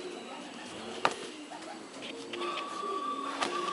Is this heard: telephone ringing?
no